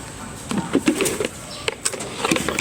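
Pigeons in a loft of stock birds, with soft scattered coos and rustles close by, irregular calls and faint wing movements over a quiet background.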